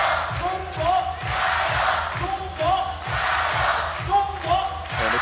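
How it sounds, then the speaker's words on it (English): A crowd cheers and roars steadily through a FIBA 3x3 Asia Cup 2018 basketball medal game, with a commentator talking over the noise. "And the crowd is in it."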